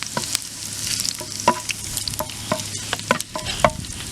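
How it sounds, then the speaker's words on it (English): Garlic and onion sauté in a warm pan, a continuous close sizzle punctuated by repeated scraping stirs and light clinks of a utensil on the pan, with no talking. "I'm going to saute my garlic here like that, and then I'm going to saute next on my onion"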